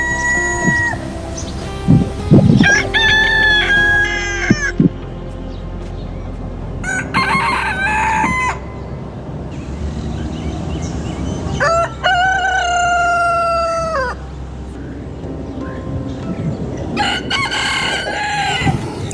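Chickens cluck and a rooster crows repeatedly in several long calls, fairly near and loud, with scattered thumps and farmyard noise between the crows and no speech.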